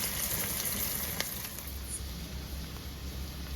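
About a spoonful of chopped ginger hits hot oil in a pan for an egg tadka, producing a loud, even sizzle that holds steady throughout.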